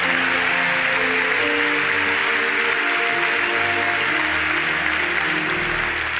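Congregation clapping and cheering in praise of Jesus during a church service, a dense, steady wash of applause throughout with sustained tonal music underneath.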